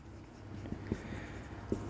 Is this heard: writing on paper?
yes